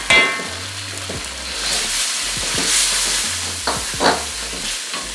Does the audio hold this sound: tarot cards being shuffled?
no